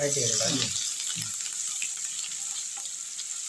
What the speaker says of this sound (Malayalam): വെളുത്തുള്ളി കൂടെ ഇഞ്ചി അരിഞ്ഞത് കൂടി ചേർത്ത് നമുക്കൊന്ന് വഴട്ടാം നമുക്ക് ഇനി ഒരു മീഡിയം ഫ്ലെയിമിൽ വഴറ്റി എടുക്കാം